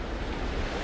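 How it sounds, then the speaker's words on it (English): Ocean waves rolling in on a shore: a steady, close wash of surf with wind noise on the microphone, brief and continuous with no voices. "are we still getting that odd seventh wave or tenth wave coming in?"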